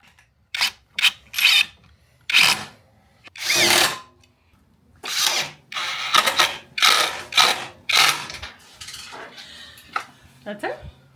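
Heavy van seat mechanism being worked, a series of loud metallic clanks, clicks and rattling bursts in irregular rhythm, close by, with short quiet gaps between them.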